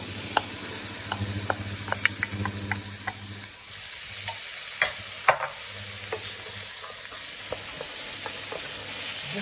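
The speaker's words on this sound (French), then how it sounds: "Je mélange." Stuffing mixture stirred in a pan for stuffed small peppers, a close, steady scraping and clinking of the spoon over a low sizzle, with occasional sharper taps against the pan.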